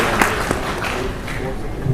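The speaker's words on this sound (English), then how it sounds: "could we have a huge round of applause," An audience at a services export promotion council event applauds in steady, moderately loud clapping that is partly masked by a voice speaking over it.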